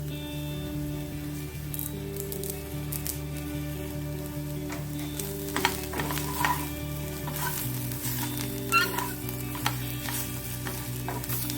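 Ivy gourd fry with garlic and spice powder being stirred in a pan over low heat, a soft continuous sizzle with scattered scraping stirs and a steady background hum.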